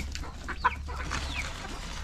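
Hens cluck softly in a coop in a few short, scattered calls, fairly close, with a low background hum and no talking.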